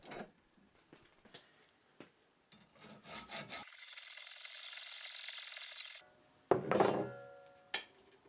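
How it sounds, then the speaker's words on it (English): A hand file rasps across a bolt nub clamped in a vise, with a few short scraping strokes, a steady whine-like rasp in the middle, then more strokes, close and clear with no talk. "A few strokes with a file should make quick work of it."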